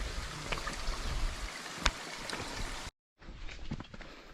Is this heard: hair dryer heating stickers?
no